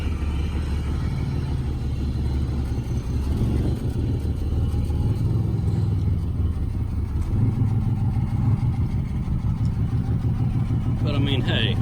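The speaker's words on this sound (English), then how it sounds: "Like I said, the motor's got a little miss in it." An old Chevy Camaro engine with a misfire runs steadily nearby, a continuous low rumble that swells slightly at times, lasting throughout.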